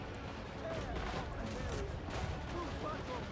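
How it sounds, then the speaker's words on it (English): Mortar and cannon fire in a battle video game, repeated heavy thuds and booms layered over a busy combat din, with a voice talking over it. "There's the mortars."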